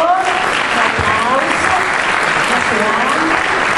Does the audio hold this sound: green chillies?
no